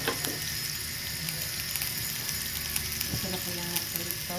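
Garlic and onion sizzle steadily in a frying pan for tokwa't baboy, a dense close hiss with small crackles and clinks throughout, and a brief voice faintly underneath.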